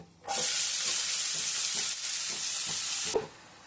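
Chopped onions hit hot oil with cumin and burst into a loud, dense sizzle that holds steady for about three seconds, then drops away abruptly, with faint spoon taps beneath.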